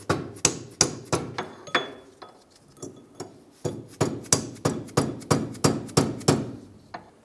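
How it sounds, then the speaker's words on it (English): Soft mallet striking the inside of a rear wheel hub on a 2003-2011 Honda Element to drive the axle forward: about twenty sharp, close blows in a steady rhythm, with a short pause partway through. "we're going to use a soft mallet on the inside where we can to try and drive that"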